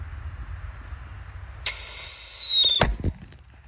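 A large Roman candle firework fires outdoors: a loud whistling shot climbs for about a second, then ends in a sharp bang over a quiet background.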